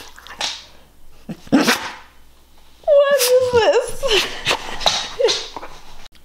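A pet dog whimpers and yips in high, wavering cries in the middle of the stretch, close by, with a person talking anxiously before and after.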